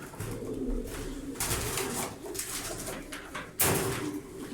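Ahmet Yusuf's pet pigeons, some with freshly clipped wings, coo softly in low repeated calls, with occasional louder rustling or knocking bursts nearby.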